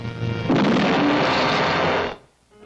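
Artillery fire in a 1970 network television preview, a loud sustained roar of blasts and rumble lasting about a second and a half before cutting off abruptly.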